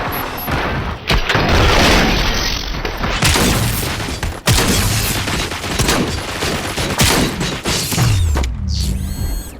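Gunfire in the RoboCop: Rogue City video game, a dense sustained burst of loud shots and mechanical clatter that runs nearly nonstop, with a few booming impacts and a short whirring sound at the end.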